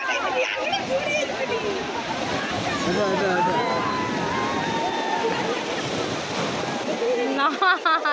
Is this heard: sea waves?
yes